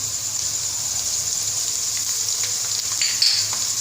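Garlic ginger paste frying with browned onions for aloo palak, a steady bright sizzle close up with a faint hum underneath and a brief flare near the end.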